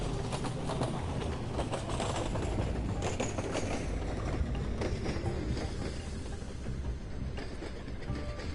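A train in LittleBigPlanet 3 rumbles continuously, with rhythmic clickety-clack rattling and dense mechanical clatter, loud and close throughout.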